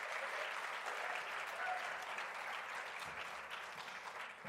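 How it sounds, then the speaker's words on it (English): An audience at a summit panel discussion applauds as a speaker comes forward, a dense, sustained clapping that holds steady and tapers slightly near the end. "give her a round of applause as she comes forward"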